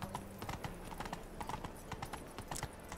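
Horse hooves clip-clopping rhythmically in the video game The Witcher 3, a steady galloping beat that stays fairly faint throughout with a brief whinny-like tone.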